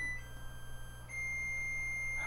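A kitchen stove's electronic alarm sounds a thin, steady high-pitched beep that drops out briefly and resumes, fairly quiet over a low background hum.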